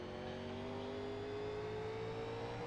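Race car engine in the iRacing game, driving at North Wilkesboro, a steady loud mechanical drone whose pitch climbs slowly as the car accelerates, with no other sounds.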